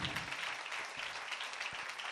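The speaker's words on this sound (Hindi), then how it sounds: "ऐसी ताली बजाओ प्रभु के लिए जो हमारे लिए सूली पे मारा गया" A church congregation claps together in a steady, sustained burst of applause during a Hindi-language sermon, dense and continuous throughout with no voice above it.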